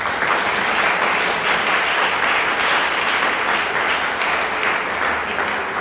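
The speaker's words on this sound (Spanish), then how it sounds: "Demos un aplauso al Señor" Congregation applauding during a church service sermon, a loud continuous roar of many hands clapping that holds steady throughout.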